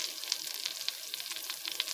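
Asparagus sizzles in hot margarine in a pot, a steady close frying hiss with small scattered pops and crackles throughout, with no talking.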